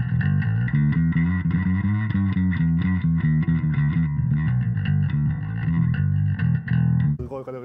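A five-string bass runs through a lightly distorted effect, playing a steady run of rhythmic, sustained notes with a gritty edge that carries on without a break.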